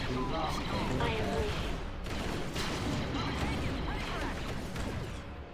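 Battle noise from a Star Wars strategy video game: dense, continuous gunfire and explosive crashes roll on without a break, loud and busy throughout, with a voice speaking over the din.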